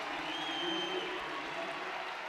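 A crowd at a women's college basketball game between Michigan and Iowa cheers and applauds, a dense steady roar of distant voices and clapping filling the arena throughout.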